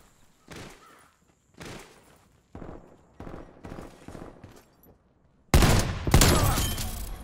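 Hand cannon pistol fired in a first-person shooter video game: five spaced single shots ring out one after another, followed by a loud, dense burst of heavy gunfire and explosive impacts near the end.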